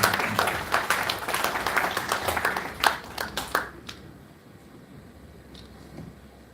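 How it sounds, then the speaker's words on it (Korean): An audience at a high school founding anniversary ceremony claps loudly and steadily for about three and a half seconds, then the applause breaks into a few scattered claps and fades to quiet room tone. "다시 한번 큰 박수 부탁드리겠습니다"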